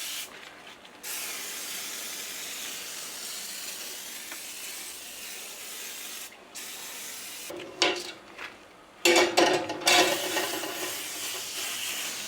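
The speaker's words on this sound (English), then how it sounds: "spray it on the racks" Elbow Grease oven cleaner is sprayed onto oven racks in a few sharp hissing bursts near the end, after a stretch of quieter background hiss.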